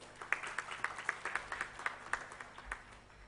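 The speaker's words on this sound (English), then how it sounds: "Please welcome him with a huge round of applause." Audience applause at the inaugural session of an education summit in India, a faint, sparse patter of individual claps spread through the room, fairly distant and thin.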